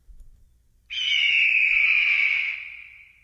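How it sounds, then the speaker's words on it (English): An eagle cry sound effect plays as one sustained, piercing high screech lasting over a second, loud and clear over quiet background, then fades away. "I need an eagle sound in there."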